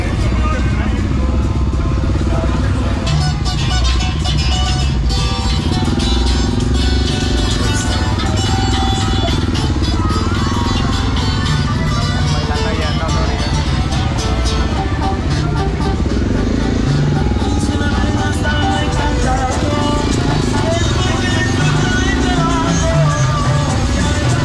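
Motorcycles and other vehicles pass along the Mazatlán seafront promenade at night during a busy Saturday gathering, engines rumbling steadily amid loud crowd chatter and music for the whole stretch.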